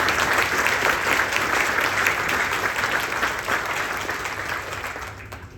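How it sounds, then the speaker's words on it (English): A crowd gathered for a campus grand opening claps steadily for honored speakers, a dense, even round of applause that slowly tapers toward the end. "Please give our honored speakers another round of applause"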